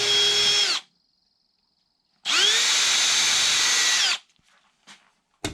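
A power drill drives screws for a wooden cross brace on a full-height teardrop camper pod, with two loud whirring bursts separated by a silent gap and a few faint knocks and clicks at the end.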